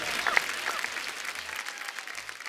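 Studio audience applause on a comedy show, a dense, fairly soft wash of clapping that holds steady throughout without fading.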